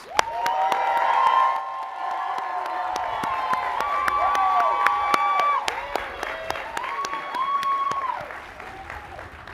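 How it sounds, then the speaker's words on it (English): Audience at a graduation ceremony breaks into sustained clapping and cheering for faculty, loud and dense at first, then continuing with scattered whoops, shouts and individual claps. "Please join me in giving them a round of applause"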